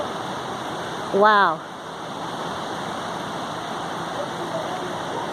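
Water of the Willamette River rushes steadily through a steep, narrow ravine, a continuous broadband wash that fills the whole stretch, with one brief spoken exclamation near the start.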